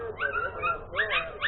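A young puppy whimpers and yips close by in two short bursts of high, wavering whines during a training session at home.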